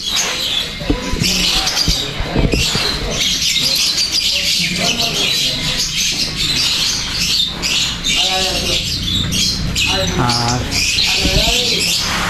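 Silver pheasants in an enclosure in Darjeeling give squawking calls and chirps against a loud, steady background hiss, while people talk nearby.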